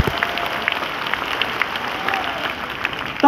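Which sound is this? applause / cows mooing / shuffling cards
applause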